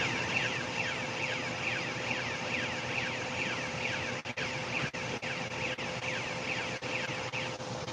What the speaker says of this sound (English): There's another alarm that should go off right about now. And that's to change the spool.